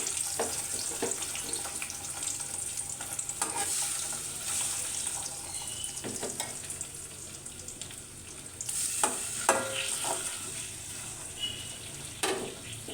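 Pabda fish marinated with turmeric and salt sizzle in hot mustard oil with nigella seeds, a close, steady frying hiss punctuated by sharp spatters and occasional clinks and stirs.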